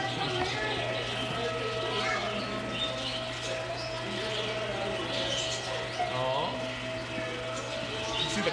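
Birds cooing and chirping at an aquarium with a steady mechanical hum beneath, soft calls scattered across the scene alongside faint background voices.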